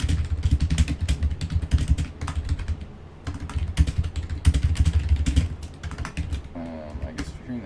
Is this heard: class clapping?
no